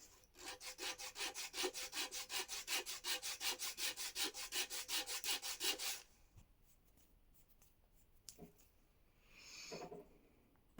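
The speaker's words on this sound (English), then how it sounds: "sanded it on a flat surface to get it even and" A carved wooden peg for a Germanic lyre is rubbed back and forth on a flat sanding surface in quick, even strokes, a soft rasping rhythm that runs for several seconds and then gives way to quiet handling noises.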